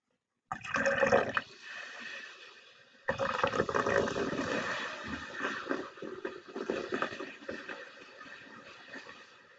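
Vinegar poured into a cup of baking soda and popcorn kernels, a splashing liquid pour that starts, pauses, then resumes as a steady pouring and fizzing wash close by with no talk.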